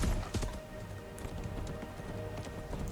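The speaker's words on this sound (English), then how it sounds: "It's nice to see another horse chase." Horses gallop in a chase scene from The Rings of Power episode 1x6, 'Udûn': rapid, continuous clip-clop of hooves at moderate loudness over a busy background mix.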